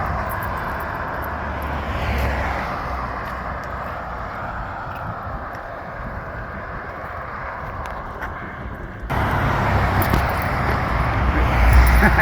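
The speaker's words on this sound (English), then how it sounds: "where there's busy traffic" Busy suburban street traffic rolls past in Aliso Viejo, a continuous broad engine and tire roar that swells louder near the end.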